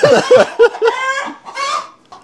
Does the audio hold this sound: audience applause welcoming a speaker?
no